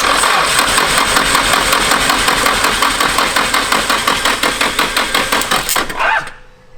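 Car engine cranking and starting up at close range: a rapid, loud rhythmic churn of the starter and engine for about six seconds that cuts off abruptly.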